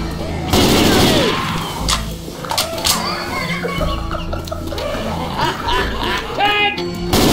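Gunfire aimed at the Tank in Left 4 Dead 2, loud rapid shots and bursts with clattering impacts and chaotic game noise, players shouting briefly between volleys.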